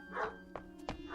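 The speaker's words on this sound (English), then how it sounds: "Yep, that's the dog that always comes around." A collie barking in a radio drama, a few short separate barks spaced out over about a second against a quiet background hum.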